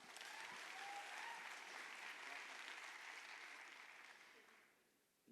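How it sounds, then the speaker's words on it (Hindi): Enthusiastic audience applause at a network marketing training session, dense clapping filling the hall before gradually fading out near the end. "जोरदार तालियां"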